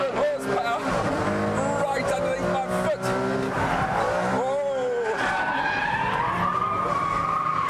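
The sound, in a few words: Ferrari Enzo braking hard, tires skidding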